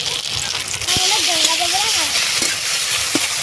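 Reddened onions fry with chopped tomato and salt added, sending up a close, loud sizzle that swells as the tomato goes in, with a few clicks and a brief voice underneath.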